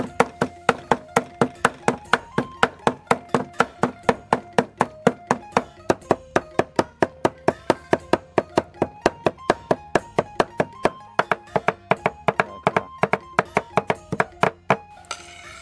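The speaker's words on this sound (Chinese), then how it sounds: "煮好的辣椒剁碎" A knife chops boiled chili peppers on a cutting board in a steady, fast, even rhythm of dozens of close, sharp knocks that continue without pause.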